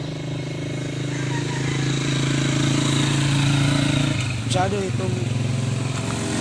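A newly bought Yamaha Evo 300cc big bike idles with a steady low throbbing drone while someone talks over it, and a brief rising engine blip cuts in near the end.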